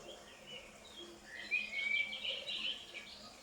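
Faint, high birdsong drifts in from a distance, a few thin chirps and a short warbling phrase over a quiet background.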